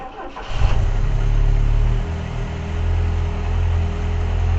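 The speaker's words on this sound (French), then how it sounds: "Là, vous devez entendre, il y a une belle fuite d'échappement." The engine of a Renault 17 TS with a Weber DARA carburettor starts and then runs at a steady idle, loud and close, with a rough, rumbling exhaust leak.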